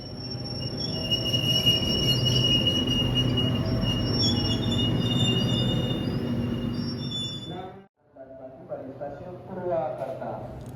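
A Ciremai passenger train rumbles steadily along the rails with high squealing wheel tones, then the noise abruptly drops away and a voice is heard.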